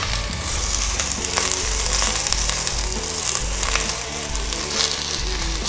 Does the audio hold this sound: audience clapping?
no